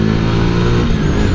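A Honda Legend150 motorcycle accelerates hard, its engine a loud, continuous, throaty drone that holds steady throughout, close up and with no speech.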